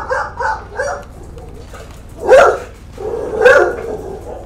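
A dog barks indoors in several bursts: three quick barks, then two louder, separated barks after a pause, fairly close, with no talking over them.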